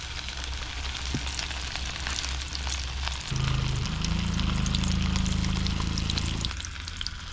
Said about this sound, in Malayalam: നമ്മൾ ഈ ചിക്കൻ തിളച്ചെണ്ണയിലോട്ട് എണ്ണയിലോട്ട് അങ്ങ് ഇടുന്നു